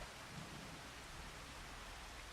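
Steady rain in the video game Farming Simulator 25, a dense, even hiss of falling water that fills the whole moment, with a faint low rumble underneath and no voices.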